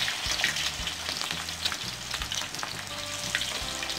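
Spiced chicken frying in hot oil over a high flame, a continuous bright sizzle and crackle close up, with occasional stirring scrapes and no voices.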